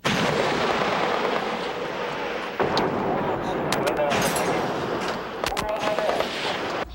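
Loud, sustained booming rumble of artillery fire during military training, with a sharp blast partway through and overlapping crashes and roars. The guns are close and dominate, with voices faintly mixed in.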